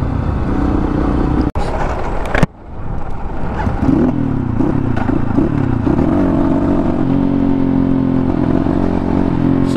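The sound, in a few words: motorcycle riding, newly launched Asian Beast bike in Nepal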